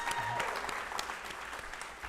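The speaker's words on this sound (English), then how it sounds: "He loved those applause." Scattered audience clapping at a school district board of trustees meeting, moderately distant and fairly quiet, with individual claps audible as the applause tapers off.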